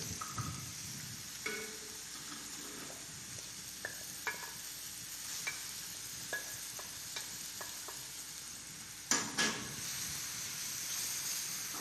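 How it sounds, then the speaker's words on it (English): Chopped onion frying in palm oil gives a steady hiss with stirring scrapes and utensil clicks, close and moderately loud, a sharper clatter near the end, no voices. "So let's let that onion cook a little bit"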